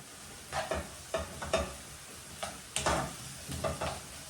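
Sliced onions sautéing in a pan for a chicken asado siopao filling, with a soft steady sizzle broken by several short scraping stirs at an uneven rhythm, close and moderately quiet, no voices.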